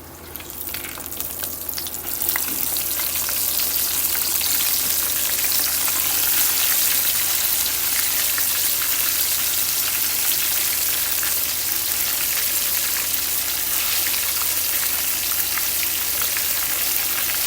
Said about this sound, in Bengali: আবার আমরা দিয়ে দিব দ্বিতীয়বার ফ্রাই করার জন্য